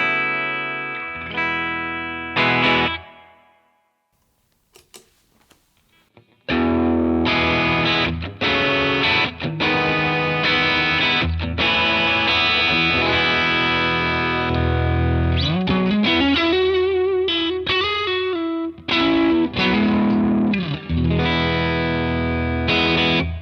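Electric guitar played through the right, more open and raw channel of a Browne Carbon X dual overdrive pedal, giving loud, gritty distorted chords and sustained notes after a brief clean strum and a short pause, with no talking.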